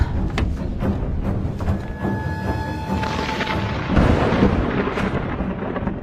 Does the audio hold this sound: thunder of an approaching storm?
yes